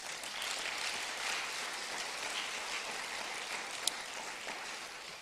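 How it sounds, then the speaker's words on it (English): An audience at a State of the City address by Youngstown's mayor applauds City Council and City Hall staff, a faint, steady wash of clapping from a distance, alone and without talk. "Give yourself a big round of applause"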